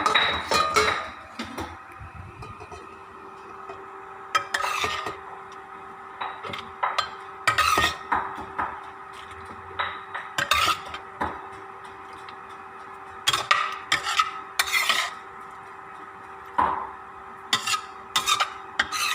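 Spicy stir-fried pork with shrimp being served from a pan onto a plate in a home kitchen, with repeated scraping and clinking of a utensil against cookware in irregular bursts over a steady background hum.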